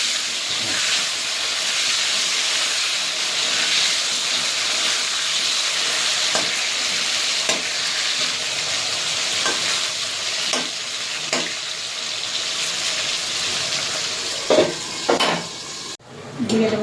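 Potatoes sizzle in hot oil in a pan for a Bengali stingray and potato kosha, with a steady frying hiss broken by periodic scraping knocks of a spatula stirring them.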